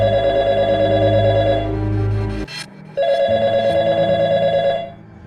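A telephone rings loudly and close up, two long electronic rings separated by a short pause.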